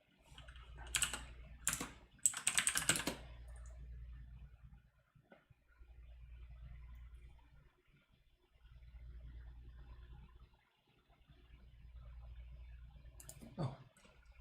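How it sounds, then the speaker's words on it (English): Keys on a mechanical keyboard clatter in a few quick bursts of typing near the start, then fall quiet over a steady low hum during a live coding stream. "So I'm using mechanical keyboard today, so let me know if it makes too much noise in the stream"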